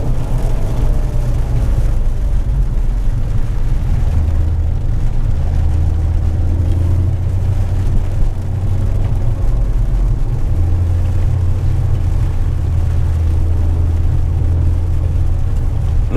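Volkswagen Golf 7R driving at night on wet roads, heard from inside the cabin as a steady low engine and road drone with tyre hiss, moderately loud and continuous, with no talk.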